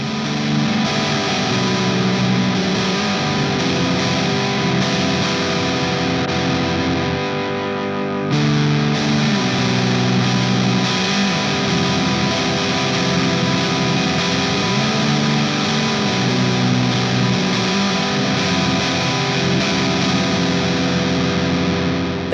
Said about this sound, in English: This is the UAFX ANTI 1992 high-gain amp.